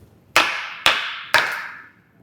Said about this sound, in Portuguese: Martelo.